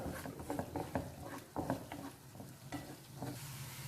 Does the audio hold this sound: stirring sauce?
yes